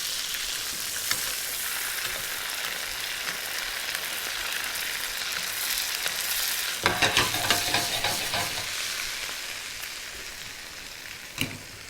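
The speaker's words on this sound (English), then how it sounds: "Now we see our nuts are cooking." Nuts cooking in browning butter in a pan give a steady, close frying sizzle throughout, with a few sharper crackles and spits near the middle and end.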